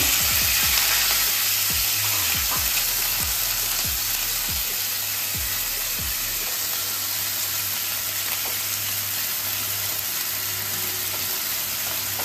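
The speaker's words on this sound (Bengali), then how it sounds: "লঙ্কাটা ভাজা হয়ে গেছে এখন আমি পেঁয়াজটা ছেড়ে দিচ্ছি" Sliced onion dropped into hot oil with fried green chillies for a Bengali fish curry, a loud dense continuous sizzle held steady throughout, no talk.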